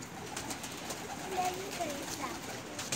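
A breeding pair of red-eyed pigeons gives soft, low cooing in short phrases, faint beneath a voice talking nearby.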